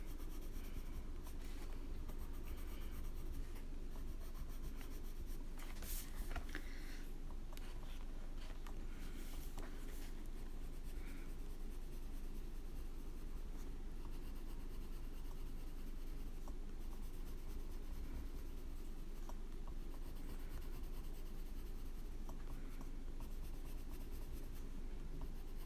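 Colored pencils from three different brands scratching and rubbing across paper while a flower elf is colored in, a continuous close, dry scraping with short strokes and no voices.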